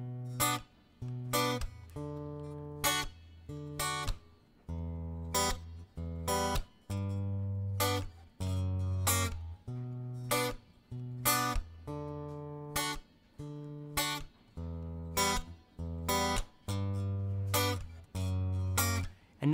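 Guitar playing the chord progression of a song slowly, with rhythmic strummed chords and short muted stabs repeating across the passage, clear and close with no voices.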